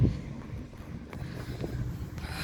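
Low rumbling wind buffets the microphone throughout, a steady blustery roar with gusty swells and no voices.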